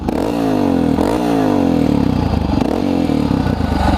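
A dirt bike engine runs close and loud, a rough clattering idle that rises in several quick revving surges and falls back, with no talking over it.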